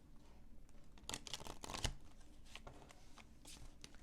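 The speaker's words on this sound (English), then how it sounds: "Okay, I just cannot shuffle this deck today." A deck of tarot cards is shuffled by hand close up in a quiet room, with rapid papery riffles and soft slaps in several bursts.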